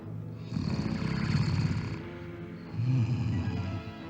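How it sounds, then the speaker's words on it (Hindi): A man asleep with a sheet pulled over his face snores in long, rough, droning breaths, two drawn-out snores heard close and steady with no talking. "ऐसे खर्राटे भर रहे हो जैसे सचमुच बड़ी मुद्दत से सोए हुए हो"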